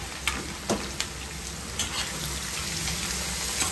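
Onions fry in an iron kadai for a prawn masala, giving a steady close sizzle with a few sharp clinks of a spoon against the metal and no voices.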